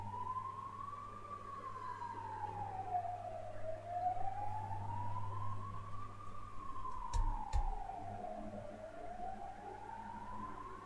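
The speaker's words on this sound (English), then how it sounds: "There's our ambulance." A distant ambulance siren wails outside in a slow, rising and falling sweep, faint and steady over low background noise, with a couple of brief clunks partway through.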